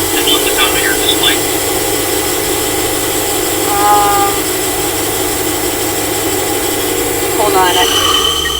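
An LT70 riding lawn mower runs with its cutting blade engaged, giving a loud, steady engine drone with a whirring blade hum that holds constant from start to finish.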